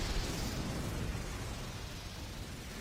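Fireball jutsu from the Naruto Shippuden anime: a sustained, roaring blast of fire that rumbles steadily for about three seconds with no breaks or clear onset.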